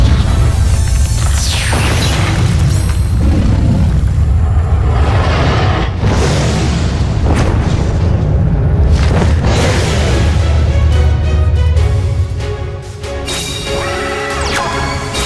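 Dragon summon effect in Yu-Gi-Oh! Duel Links, a loud booming impact with crashing bursts, rising shimmering tones and ringing chimes, no speech.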